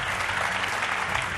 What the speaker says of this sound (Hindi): आइए इसी पर चर्चा करेंगे तालियों के साथ सुधांशु द्विवेदी,